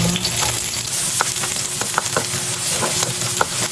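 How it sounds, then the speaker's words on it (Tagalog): Steady sizzling of ginger, onion and garlic frying in a hot pan, with occasional clinks of a spatula stirring against the metal throughout. "magigisa na tayo ng luya, sibuyas, saka po nitong bawang"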